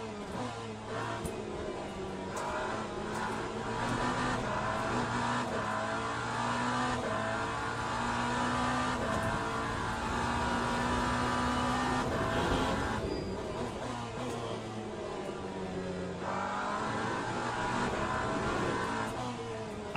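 Race car engine in the Le Mans Ultimate racing game, a continuous loud roar rising and falling through gear changes as the car drives over a bumpy circuit, with occasional shifts and no talking.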